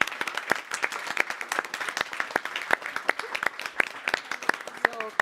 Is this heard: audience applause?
yes